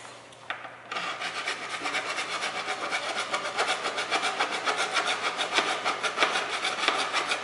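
Hand saw cutting through a Tesla coil secondary form, with steady rapid rasping back-and-forth strokes running continuously and close up, with no talking.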